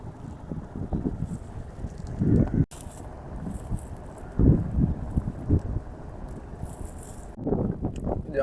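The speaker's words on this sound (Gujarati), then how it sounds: "અને બોટ હવે જાય છે." A motor boat moves across open water at Fudam Bird Sanctuary in Diu, its low engine rumble and water noise steady throughout, with wind buffeting the microphone and a few rattling knocks.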